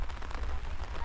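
A brief burst of steady rainfall on open ground where soil is being dug for a pond, an even hiss of drops without speech.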